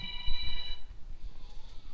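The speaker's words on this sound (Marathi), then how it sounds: "काकांना फोन आला." An incoming call rings on a mobile phone, a bright electronic ringtone tone that sounds loud and close for about a second and then stops, leaving a quiet room with faint rustling.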